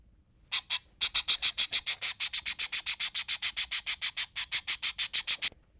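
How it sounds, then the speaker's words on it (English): A parrot gives a rapid series of about twenty-five sharp, raspy squawks in a steady, evenly spaced rhythm, loud and close, with no other sound behind them. "parrot,"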